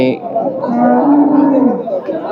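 A bull lets out a long, drawn-out moo nearby at a cattle market, with a low murmur of people and market chatter in the background.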